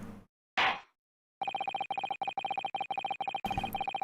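Beeping Morse code signal tones in the Ace Attorney video game, a steady pitched tone pulsing in short and long bursts at an even pace, loud and alone after a couple of brief clicks.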